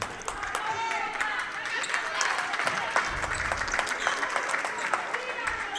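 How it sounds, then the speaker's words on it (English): Crowd at a girls high school basketball game applauds in a steady, dense round of clapping mixed with sneaker squeaks, continuing under a commentator's voice. "Good round of applause for Kenley Hilgeman"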